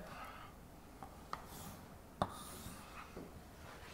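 Faint scratchy marks and a few sharp taps of writing on a board while lecture examples are drawn, quiet and close with no speech.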